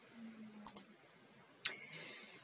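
Computer mouse clicks during a software demo: a quick double click, a pause, then one sharper single click, all close and fairly faint against a quiet background, with no talk.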